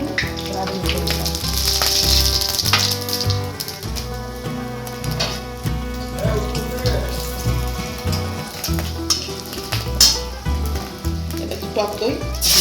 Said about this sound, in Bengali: ওই তেলের মধ্যে এই দেখো যে বললাম দুটো শুকনো লঙ্কা ফোড়ন দেবো আর একটু রাঁধুনি করে দিলাম